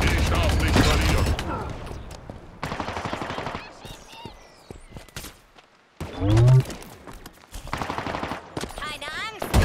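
In the Halo Infinite video game, a gun turret fires rapid bursts of automatic gunfire, loud and close, alternating with pauses, chatter and other game sounds, with voices speaking briefly between volleys.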